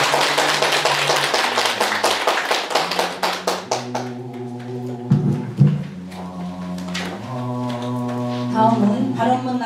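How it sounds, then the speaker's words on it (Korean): An audience at a Buddhist college lecture at Jogyesa temple gives the professor a round of clapping over steady sustained tones. The clapping thins out after a few seconds while melodic tones continue. "목경장 교수님께 큰 박수 부탁드립니다"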